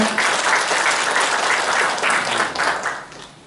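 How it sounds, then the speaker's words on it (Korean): Applause from the audience at a citizens' debate forum in a workers' cultural center fills the hall with loud, dense clapping that holds steady and then fades toward the end. "자리를 빛내주시고 축사를 해주신 유능종님에게 다시 한번 큰 박수 부탁드리겠습니다"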